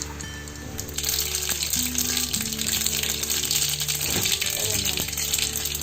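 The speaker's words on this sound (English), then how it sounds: "To this hot pan, I'm adding 2 tablespoons of oil" Mustard seeds sizzle in two tablespoons of hot cooking oil in a pan, a continuous bright hiss with some faint popping, mixed with background clatter and tonal hum.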